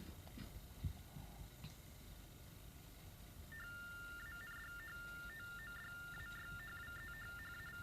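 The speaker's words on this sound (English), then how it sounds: "It transmits a different frequency for each letter." A deaf text telephone on an ordinary phone line sends rapid warbling tones, alternating between two pitches in quick bursts like typed letters, steady and fairly faint over a background hiss.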